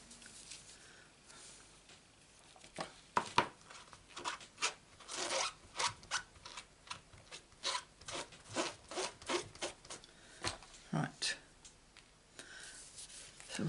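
Scissors snip through stamped paper cardstock in a papercraft session, a quiet series of short crisp cuts and rustles close up, coming in irregular bursts with brief pauses between them.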